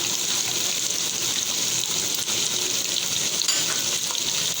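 Spices such as cumin, turmeric, chili and coriander powder frying in a pan for egg biryani give a steady, even hiss of sizzling oil with faint stirring underneath, close and continuous.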